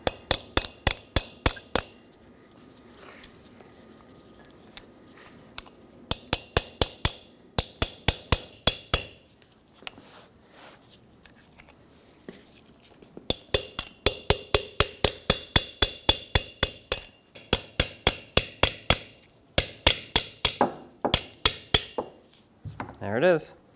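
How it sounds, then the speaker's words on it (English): Chisel struck with a hammer to remove a wheel bearing seal on a 2007-2014 Chevrolet Silverado 2500 HD: sharp metallic blows in rapid bursts of several hits, separated by short pauses, close and distinct. "What I do like to do is just take a chisel and chisel it up and out."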